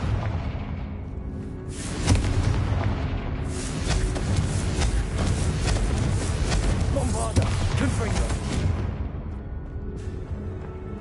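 Fiery Confringo spell blasts in the Hogwarts Legacy video game, a dense run of booming explosive bursts over about eleven seconds, loud and close, with game voices mixed in.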